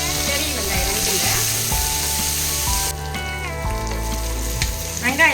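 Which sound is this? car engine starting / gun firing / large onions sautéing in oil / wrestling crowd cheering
large onions sautéing in oil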